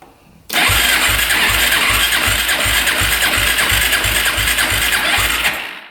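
A quad ATV engine with stuck piston rings cranks over with the throttle open after a quiet start, its low thumps coming loud and close in an even rhythm until it stops.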